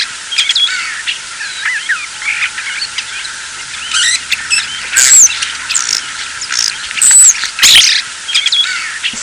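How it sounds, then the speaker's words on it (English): A starling calling: a busy, loud stream of squeaky whistles, chirps and harsh squawks, rising and falling in quick irregular phrases with no other sounds. "Starling."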